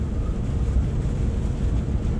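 Wind buffets the microphone on a bridge in London, a constant low roaring rumble with gusty swells and no speech.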